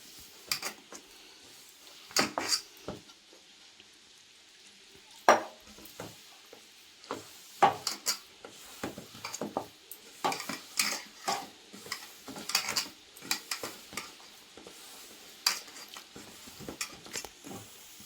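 Lentil dough being mixed by hand in a bowl while water is added bit by bit, soft irregular squelching and patting strokes with occasional bowl knocks, quiet and close, no talking.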